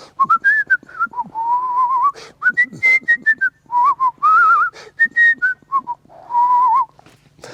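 A man whistles a wandering melody in short and longer phrases, near and clear, with brief pauses and breaths between notes and no talking.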